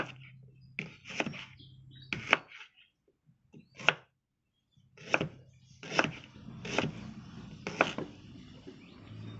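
A knife chops ingredients on a board in sharp, separate thuds, about eight strikes with uneven pauses between them, close and fairly loud.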